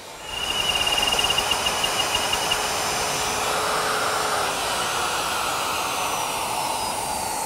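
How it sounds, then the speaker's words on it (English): A router fitted with a 1/4-inch bit cuts a groove in oak for a tall case clock, giving a loud, steady high-pitched whine after spinning up, with a slight drop in pitch under load. "clamped them together with a straight edge, which will guide my router, which has a 1/4-inch bit, to cut the groove"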